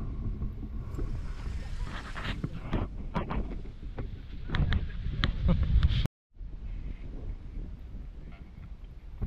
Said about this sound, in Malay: Angin dah naik.